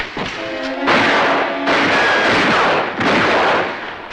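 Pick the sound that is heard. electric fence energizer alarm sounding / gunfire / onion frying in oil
gunfire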